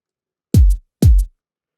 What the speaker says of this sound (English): First, we have a short and punchy kick with a nice top end.